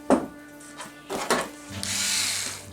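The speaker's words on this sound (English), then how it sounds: "So I'm going to take the rest of these screws off." A power drill backs screws out of an RCA SLD65A55RQ television during repair, with short close whirring bursts and a sustained high buzzing run near the end.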